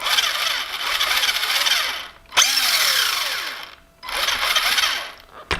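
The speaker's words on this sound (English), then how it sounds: "Does the motor work? Yes, but it's backwards." Small RC model electric motor spinning in reverse after a restoration, a loud steady whine that cuts out briefly twice and spins back up, close and alone.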